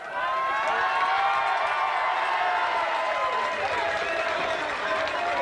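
Sustained audience applause during Tour de France 1996 coverage, a steady, full roar of clapping and crowd noise that stays loud throughout.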